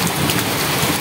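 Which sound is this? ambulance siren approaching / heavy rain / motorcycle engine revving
heavy rain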